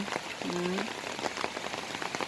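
Steady rain patters down on an avocado orchard on a dark, overcast day, a dense close hiss of drops striking leaves and ground. A brief tonal chirp, like a bird or a distant voice, rises once through the downpour.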